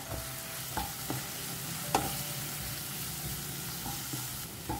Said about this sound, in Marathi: जस्ट 1 मिनटा पुरो अशें कंटिन्युअसली ताका स्टर करत रावात.